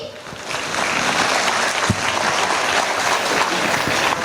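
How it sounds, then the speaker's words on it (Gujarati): An audience at a school annual function for grades one to five claps loudly and continuously, a dense, close wash of applause that stays steady for the whole stretch. "તાળીઓનો ગડગડાટ હજુ જોરથી."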